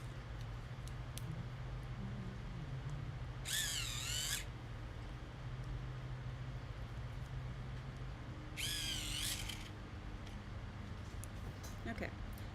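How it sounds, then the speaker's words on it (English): A colored pencil is sharpened in two short, bright bursts of grinding, each about a second long, over a quiet steady room hum. "Sharpen this a little bit."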